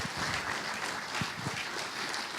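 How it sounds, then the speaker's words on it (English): An audience applauds a keynote speaker at the POSSCON 2011 open source conference, a fairly quiet, steady spread of clapping from a room-sized crowd with no talk. "Ladies and gentlemen, a round of applause for Jim Jagielski."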